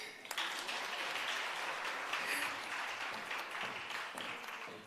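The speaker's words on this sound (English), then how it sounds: "Another applause." An audience at a hybrid capacity-building workshop and virtual expo on a college campus applauds in a dense, sustained burst of clapping that holds steady for several seconds before tapering slightly at the end.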